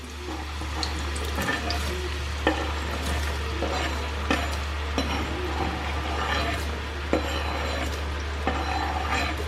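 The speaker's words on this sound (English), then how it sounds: "Since the oil is hot, I'm going to use a slotted spoon and slide these pieces into the oil." Yam pieces frying in hot oil, a steady bubbling sizzle with occasional sharper pops and clinks of a slotted spoon, continuous and close, no talking.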